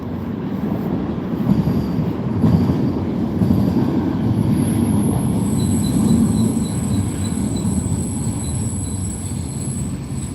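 A train rolls past with a steady heavy rumble and clatter of rail cars, high wheel squeals ringing over it, loud and continuous throughout with no talk.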